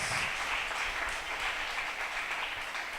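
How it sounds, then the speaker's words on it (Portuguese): Church congregation applauding together, a dense, steady patter of many hands clapping that carries evenly from start to end with no talk over it. "Dá uma salva de palmas para os nossos irmãos internautas"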